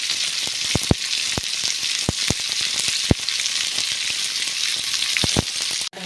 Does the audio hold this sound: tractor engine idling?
no